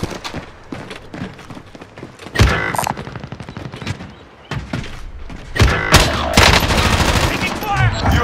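Bursts of gunfire from Call of Duty: Modern Warfare crackle loudly in rapid automatic volleys and single shots, with heavier salvos in the second half, punctuated by thuds and game voice callouts.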